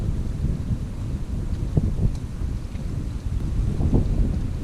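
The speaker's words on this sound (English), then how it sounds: "This is not cold, it's just bloody windy." Strong gusting wind buffets an open lakeside fishing spot, a loud continuous roar with heavier gusts rising and falling throughout, no talking.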